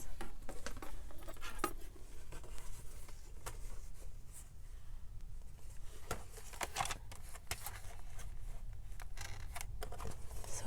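Scissors snip through paper for a small mixed-media lapbook insert, a close series of crisp irregular cuts and rustles spread across the whole stretch, with no talking.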